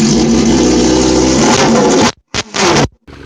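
A car engine with the muffler cut off roars loud and raspy at a sustained high rev, then is blipped in two sharp bursts with abrupt cutoffs between them.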